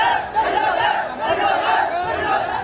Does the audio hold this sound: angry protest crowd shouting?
yes